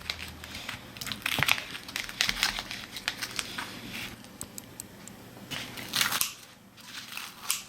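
Scissors snipping through crunchy toasted bread on a cutting board in a home kitchen, repeated close crisp crackling crunches in irregular bursts.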